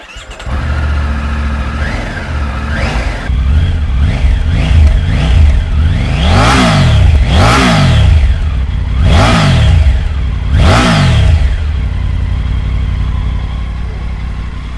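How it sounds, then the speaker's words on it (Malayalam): A motorcycle engine starts, then gets revved in a series of sharp rising and falling bursts, some quick and some held, close and loud with the idle continuing between revs. "എൻജിൻ ഓൺ ചെയ്യുക, അതിനുശേഷം ക്ലച്ച് പിടിച്ചാൽ മാത്രമേ വണ്ടി സ്റ്റാർട്ട് ആവുള്ളൂ കേട്ടോ"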